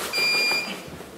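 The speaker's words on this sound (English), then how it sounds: "Beep." A homemade radar gun built on a Raspberry Pi gives one short, thin, high electronic beep over a soft background hiss.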